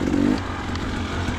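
A 2019 KTM 215 XC two-stroke dirt bike engine rasps briefly and close, a short buzzing burst that eases into a lower running note.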